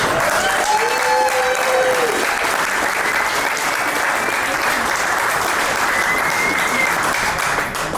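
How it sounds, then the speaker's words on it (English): An audience at a rugby club's winter party panel applauds steadily for several seconds. The clapping is dense and loud, with some crowd noise mixed in. "let's give him another round of applause"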